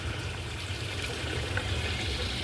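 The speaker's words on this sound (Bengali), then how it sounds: "চলো প্রথমে তুলসী তলায় একটু জল দেওয়া যাক।" Water is poured from a small vessel onto the soil at the base of a tulsi plant, a soft, steady trickle heard up close with no talking.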